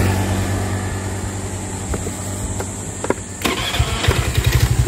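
Honda Vario scooter-type motorcycle with a stuttering, hesitant running fault being started nearby: a low engine hum builds, then a starter catch leads into a rapid, steady pulsing idle that grows louder toward the end.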